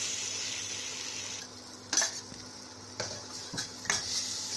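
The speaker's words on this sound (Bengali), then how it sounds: "এরপর আমি সিদ্ধ করে রাখা আলুটা, যেটা ভেজে রেখেছি, সেটা এর মধ্যে আমি দিয়ে দেবো" Boiled and fried small potatoes tip into cooked-down masala in a pan for aloo dum, with a steady frying hiss broken by four sharp spoon-on-pan scrapes and clatters.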